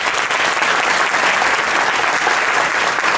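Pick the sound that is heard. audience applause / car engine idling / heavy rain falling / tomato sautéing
audience applause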